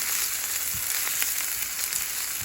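Onion frying in ghee, a steady close hiss and crackle of sizzling fat that holds evenly throughout with faint pops.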